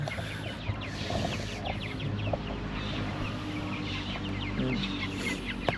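Backyard chickens clucking and pecking while being fed ground corn, a steady busy flock murmur with scattered short calls and soft rustling throughout, fairly close.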